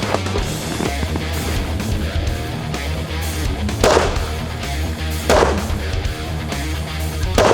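Gunfire at an outdoor shooting range during a practical pistol drill, with a few sharp loud reports standing out over steady background din and low hum.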